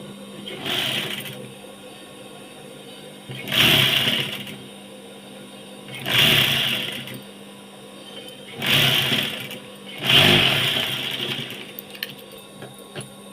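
A sewing machine stitches a nightie in five separate bursts of whirring, each a couple of seconds long, with short quiet pauses between them while the fabric is adjusted.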